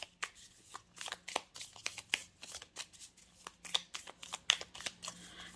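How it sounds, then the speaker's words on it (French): Deck of golden Lenormand oracle cards being shuffled close up, a quick run of soft riffling flicks and slaps in an uneven rhythm, quiet and without talking. "vous pourrez voir aussi qu'il se brasse facilement"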